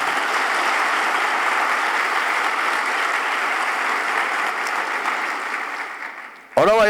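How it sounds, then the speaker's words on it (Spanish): A church congregation breaks into sustained, loud applause at a Guatemalan service, steady dense clapping that fades slightly before ending abruptly as a voice returns. "dele un aplauso al Señor"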